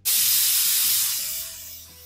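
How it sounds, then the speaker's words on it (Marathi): A kitchen pressure cooker cooking mint-flavoured green pea rice lets out a sudden loud hiss of escaping steam, which fades slightly over about two seconds. "तर याच्या 3 शिट्ट्या होऊन देते"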